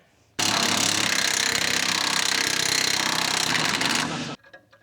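A power tool on the front suspension of a 1968 Chevelle Nomad loudly buzzes and spins a nut for about four seconds, close and continuous, then stops abruptly, followed by faint rattles.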